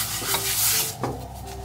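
Homemade naan cooks in a frying pan with a brief close sizzle, broken by a couple of light scrapes and taps of a utensil against the pan.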